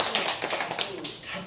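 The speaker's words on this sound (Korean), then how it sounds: "박수 한번 칠까요?" Audience clapping during a Daejonggyo religious lecture, a brief burst of scattered, fairly close hand claps with voices mixed in.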